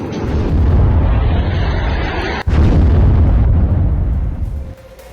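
Army strike blowing up a terrorist camp, a loud, continuous roaring blast rumble with a sharp break midway and a second surge that fades toward the end, with no talk.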